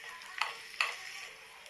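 Chopped onion with mustard seeds and cumin fries quietly in a pan for pav bhaji, with a soft hiss and two distinct clicks of a spoon stirring against the pan.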